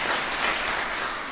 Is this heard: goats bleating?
no